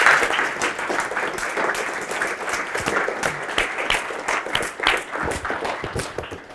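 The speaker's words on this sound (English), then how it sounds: "give him a round of applause, everybody." An audience bursts into applause, a dense, steady patter of many hands clapping that carries on for several seconds.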